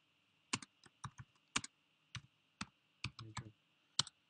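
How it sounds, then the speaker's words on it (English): Keyboard keys clacking in short irregular bursts, a few quick taps then pauses, close up with a steady faint hum underneath and no voices. "Now I am just typing"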